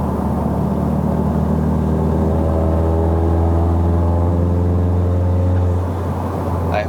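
A Stage 2 tuned MK7 VW Golf R accelerates hard from standstill, its engine note climbing steadily through the revs, loud and close from inside the cabin, with a brief break near the end.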